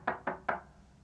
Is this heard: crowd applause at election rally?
no